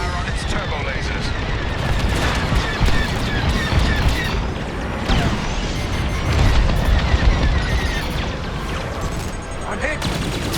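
Ship laser fire and explosions in the Star Wars Squadrons video game during an attack on a frigate's turbolaser turrets, a dense, continuous barrage of blasts and booms with voices talking over it throughout.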